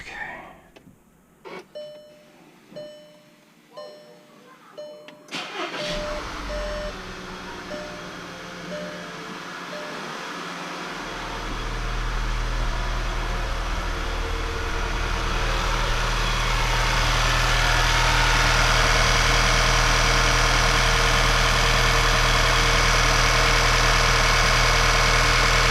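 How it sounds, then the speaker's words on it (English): A 2014 Volkswagen Tiguan R-Line, fresh from a spark plug replacement, is started after several chimes and clicks: the starter cranks, the engine catches, and it settles into a loud, steady idle close by. "so let's start it up, see what happens"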